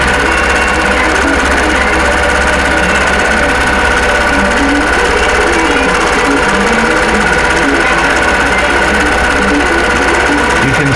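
Sewing machine stitching rows of a quilt block in 10-inch sections, a loud, continuous rapid mechanical whir and chatter running steadily throughout, with no pauses.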